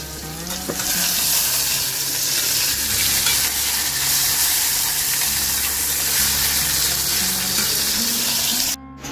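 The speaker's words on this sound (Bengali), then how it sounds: "আলুটা এখন ভাজছি" Potatoes fry in a pan with a loud, dense sizzle and the scrape of stirring that continue throughout before cutting off abruptly at the end.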